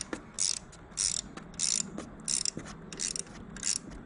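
An open box wrench ratchets as it tightens bolts on an EV ATV during assembly, giving five or six short bursts of rapid metallic clicking with brief pauses between them, close and clear.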